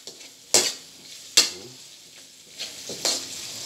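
Garlic and onion fry for spaghetti sauce with a soft sizzle while a spoon stirs, giving several distinct scraping clacks against the pan at irregular intervals.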